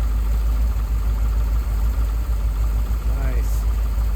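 Car engine idling steadily just after being started, with a replacement external voltage regulator fitted, a continuous low rumble throughout with faint background noise.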